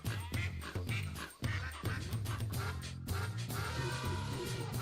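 Duck quacks pitched into a melody in a song built from animal sounds, loud and rhythmic, repeating in quick bursts over a steady musical backing with no talking.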